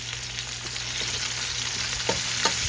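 Minced garlic and tomatoes fry for pochero, a dense steady sizzle close up, with light stirring clicks and a couple of brief scrapes near the end.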